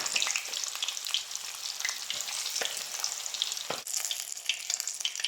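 Chicken feet coated in cornstarch fry in hot oil, a dense continuous crackling sizzle with scattered sharp pops close by, steady throughout with no talking.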